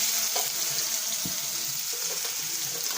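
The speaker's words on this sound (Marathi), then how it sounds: "बघा आता आपण चिरून घेतलेला कांदा, मिरची, कोथिंबीर आपण त्याला टाकून घेऊ" Chopped onion, green chili and coriander go into hot oil in a pan for poha, giving a loud, continuous hiss with a few light knocks and stirring scrapes. No one talks.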